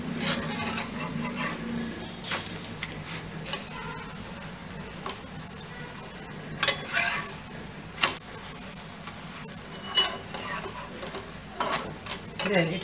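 A spicy jeera paratha fries in oil on a pan with a steady, moderate sizzle and hiss, broken by occasional small ticks and crackles as it cooks.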